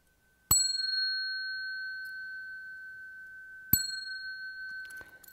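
A bell rung to bring a meditator out of samadhi gives two clear, bright strikes a few seconds apart, each ringing on with a long, slowly fading tone and no voices.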